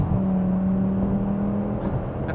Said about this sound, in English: Just listen to the V10.